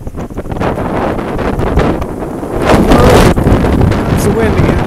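Wind on the Appalachian Trail gusts loudly into the microphone in a dense roaring rush, swelling stronger about halfway through, with faint rustling underneath.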